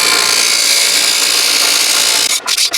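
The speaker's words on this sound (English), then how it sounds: "all I got is this drill press" A loud, continuous drill press whir with a gritty abrasive hiss of sanding against a wooden bass guitar headstock, cutting out abruptly at the end.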